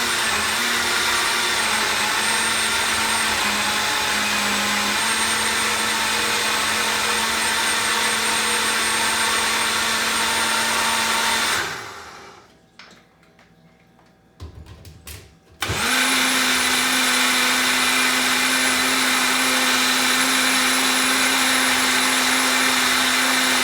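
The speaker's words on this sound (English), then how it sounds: "we want it to be blended till all the sweetener is dissolved" A blender whirs loudly through a vegan ice cream cake mixture with sweetener, a steady high motor whine that cuts off for about four seconds, then starts again and runs on, close and alone.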